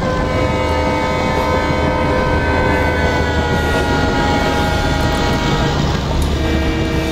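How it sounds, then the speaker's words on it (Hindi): A Duronto Express hauled by an EMD diesel locomotive passes slowly on a ghat section, giving a loud, steady engine drone with a deep rumble that holds unchanged throughout. "ये 12220 सिकंदराबाद लोकमान्य तिलक टर्मिनस दुरंतो एक्सप्रेस है, जिसका कि EMD लोकोमोटिव लगा हुआ है"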